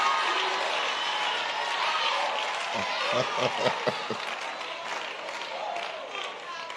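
Audience applause breaking out during a church sermon, a broad wash of clapping from a large crowd throughout, with a voice speaking over it partway through.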